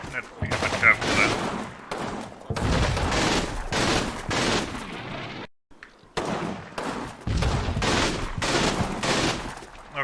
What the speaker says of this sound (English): he's up on the covering fire. An assault team with submachine guns and a carbine is going in.